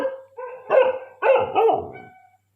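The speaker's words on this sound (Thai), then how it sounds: "วันนี้เราจะมานำเสนอคือหมาหอน" A dog at night gives drawn-out, wavering vocal calls, two louder swells with a fading tail, close by and alone with no talk.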